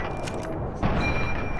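Grenade explosion in Fallout 3, a sudden dull boom cutting in midway over steady game ambience, followed by a sustained rumbling wash of noise.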